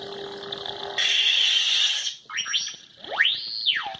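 A humming lightsaber tone from a Graflex 2.0 sound font shifts into a brighter buzz, then cuts off with a rising, falling synthetic sweep and fading chirps as it powers down.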